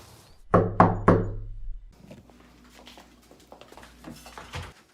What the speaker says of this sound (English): He's so cute, knocking on his own mother's door.